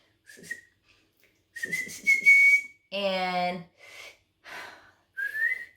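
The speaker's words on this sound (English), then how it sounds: "I can whistle with my teeth." Several short whistled notes, some whistled through the teeth, some steady and some wavering, come in bursts separated by pauses and soft breaths, with a brief spoken word.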